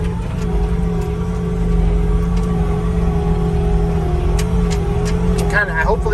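A Bobcat BrushCat brush cutter engine runs steadily while the machine pushes through brush, a loud, close, constant low drone with a sustained tonal hum, with a few faint clicks and a brief higher whine near the end.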